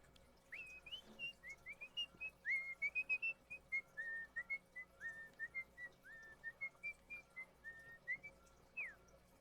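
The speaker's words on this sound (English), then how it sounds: "Probably shouldn't be whistling in you guys' ears." A person whistles a quick series of short, chirpy notes, rising and falling, fairly soft and close, with no talking.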